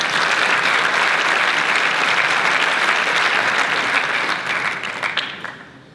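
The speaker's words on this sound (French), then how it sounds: "Sous applaudissements." Festival audience at the inaugural talk of the Big Bang festival gives loud, sustained, dense applause that holds for several seconds before tapering off at the end.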